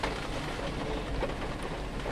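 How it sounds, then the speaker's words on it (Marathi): Heavy monsoon downpour in Satara, Maharashtra, heard as a dense, even hiss of rain pattering on surfaces, steady and unbroken with no voices. "नक्की सांगा तुमच्याकडे आज हा पाऊस आहे का"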